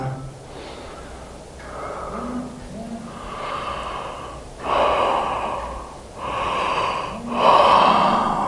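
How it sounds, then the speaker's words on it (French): Slow, breathy yawns and deep sighing exhalations during a yoga session, in several long swells at close range with no talking. "Laissez bâiller."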